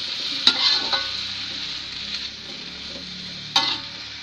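Taro stalks stirred in a sizzling pan, a steady frying hiss broken by a few sharp scrapes and clinks of the utensil against the pan, close and alone.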